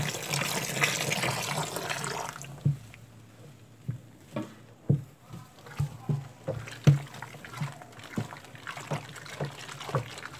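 A large batch of liquid glycerin soap is stirred in a container, with a rushing pour at first, then repeated sloshing strokes and soft splashes in an uneven rhythm, close by.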